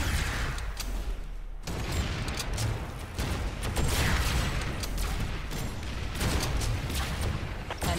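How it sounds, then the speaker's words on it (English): Rocket launcher blasts against armored tanks in a video game battle, a dense run of loud explosive booms and bursts over continuous rumbling background for the full stretch. "Switch to your rocket launcher and take them out."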